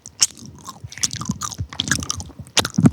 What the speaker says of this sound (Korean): 제가 마이크를 대고 한번 먹는 소리 들려드릴게요.